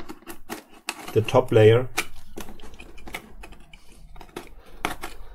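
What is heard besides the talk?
cutting away top layer of cardboard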